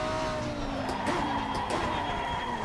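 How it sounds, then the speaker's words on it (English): Race car in a racing sim sliding off track across grass and gravel, a steady loud engine drone with rough skidding texture running continuously throughout. "as it's skidding across the grass and the gravel"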